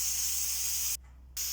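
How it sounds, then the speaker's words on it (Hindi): A pressure cooker whistle vents steam while whole masoor lentils cook: a loud, steady, close hiss that cuts out for a brief pause, then resumes. "ये देखें सीटी जो है वो चलना स्टार्ट हो गई है।"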